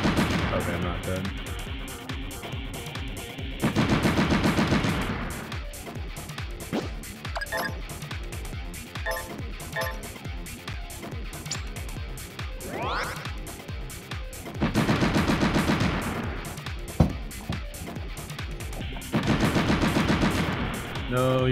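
Repeated gunfire in the game Metal Saga, sharp regular shots and bursts with periodic louder blasts, continuing steadily beneath someone talking.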